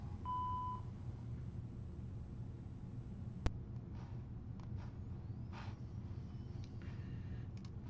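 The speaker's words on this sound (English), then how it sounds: "please leave a message after the tone" A single short, clear beep from an answering machine sounds just after the start, then steady background hiss and low rumble fill the rest.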